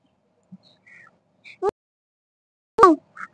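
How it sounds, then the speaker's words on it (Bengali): Pet birds give a few short, sharp calls indoors, two louder harsh cries standing out from faint chirps against near silence. "আমার পাখিগুলো আবার ডাকছে"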